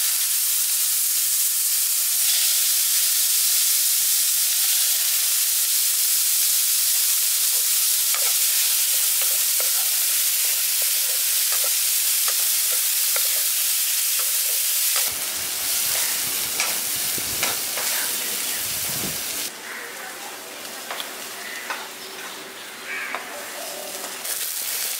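Thinly sliced onions sizzling in hot oil in a pan for a village-style sea bass fish curry, a loud continuous hissing fry that shifts and crackles as the pan is stirred and moved, no talking.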